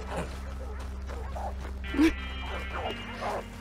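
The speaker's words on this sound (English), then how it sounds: "It's just dogs gone crazy." Dogs bark, yip and whimper in an attack scene from the Red Dead Redemption 2 video game, several close yelps over a low game ambience.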